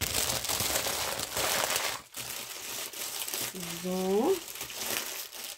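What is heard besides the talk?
plastic foil wrapping crinkling during unboxing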